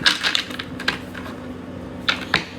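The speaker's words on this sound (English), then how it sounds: "I gotta shuffle these because these are similar cards that came out in the reading" A deck of tarot cards being shuffled by hand, heard as quick, crisp papery clicks and riffling bursts near the start and again toward the end, with no talking.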